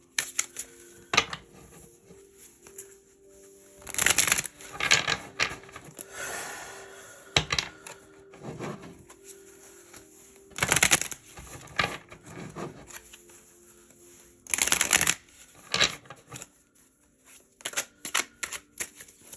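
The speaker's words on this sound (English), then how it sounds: "So now I'm going to pull some tarot." Tarot cards are shuffled close up in several crisp, riffling bursts separated by short quiet gaps, with light handling taps between them and no talking.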